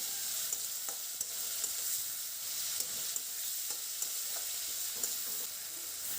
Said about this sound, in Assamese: এয়া মই এতিয়া অকণমান সময় ধুনীয়াকৈ ভাজি লৈছোঁ।